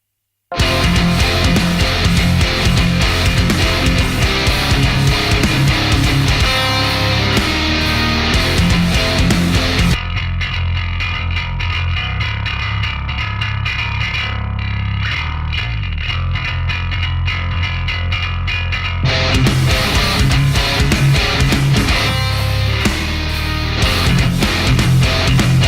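Distorted, effects-heavy bass guitar reamped through an Axe-Fx III bass patch, playing loud and dense within a full band mix, with a thinner, sparser middle section before the full mix returns.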